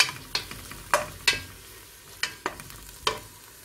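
Garlic sizzles quietly in a pan for a shrimp dish, broken by a series of sharp scraping and clanking strokes as a utensil stirs it at uneven intervals.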